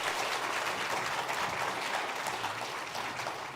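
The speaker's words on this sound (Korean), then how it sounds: "박수가 나오시네요." A church congregation applauds during a 70th-anniversary Sunday service, steady even clapping from a large room heard at moderate distance, continuing throughout.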